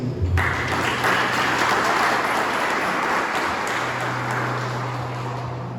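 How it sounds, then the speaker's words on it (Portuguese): Steady, dense applause from a church congregation praising the Lord, loud and sustained for several seconds with a low hum beneath, fading slightly near the end. "Você pode aplaudir o Senhor?"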